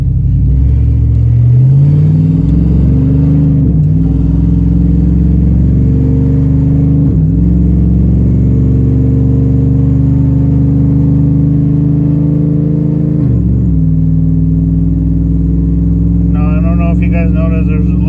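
A car fitted with a swapped GM 6L80 six-speed automatic transmission pulls away from a stop, its engine rumbling and rising in pitch through several gear shifts, close and loud, with a voice briefly audible near the end.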